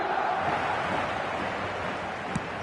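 Crowd noise at a passionate football stadium on a clear night forms a steady broadband roar from a distance, a continuous wash with no distinct voices.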